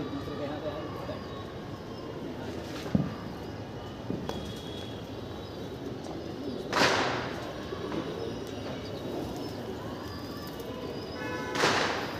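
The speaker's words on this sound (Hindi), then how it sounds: "67 कबूतर उड़ रहे हैं जो" A large flock of pigeons, kept by a hobbyist and let out for a practice day, flies and calls in a steady, dense outdoor wash, with a few soft thumps and occasional bursts of wingbeats rising above it.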